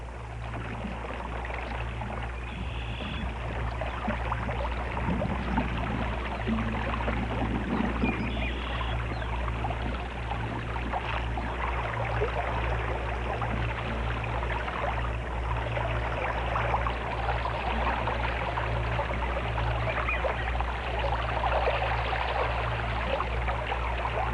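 Running water in a stream at a beaver dam in Riding Mountain National Park, Manitoba, a steady loud rushing and gurgling flow that continues without a break, over a deep constant low rumble.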